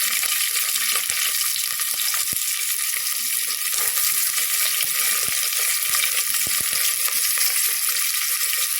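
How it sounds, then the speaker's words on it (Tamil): Whole cinnamon, cloves, curry leaves, chillies and onion fry in oil for a white kurma, a bright, continuous sizzle dotted with small scattered clicks and taps, without any voices. "பட்டை கிராம்பு எல்லாம் முழுசாக தாளிச்சிக்கலாம் இது கூட கருவேப்பிலை மிளகா போட்டுக்கலாம் வெங்காயம்"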